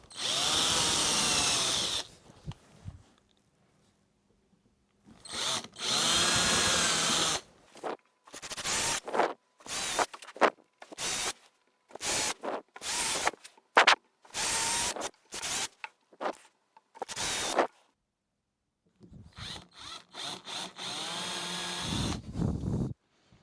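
A power drill bores holes in wood planks, whining in repeated bursts. Long runs and many short on-off pulls are separated by pauses, and the drilling is close and loud.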